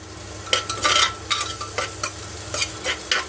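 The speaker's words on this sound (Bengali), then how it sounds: "একটু ভাজা ভাজা করে নিচ্ছি" Onion, garlic and chilli fry in a pan over a soft, constant sizzle, broken by a series of brisk spatula strokes scraping and stirring in an uneven rhythm, close and fairly loud.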